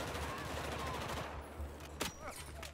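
Distant, muffled automatic gunfire in Battlefield 4 on Xbox One, a rapid rattling stream fading out after about a second and a half, followed by a single sharper crack.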